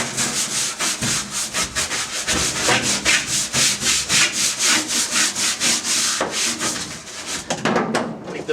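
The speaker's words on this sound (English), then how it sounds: "got me a little scrub brush. Let's see how much it takes to clean this up" A small scrub brush scrubs rust and dust off a truck's surface in fast, steady back-and-forth strokes, loud and close with a rhythmic rasping texture and no talk.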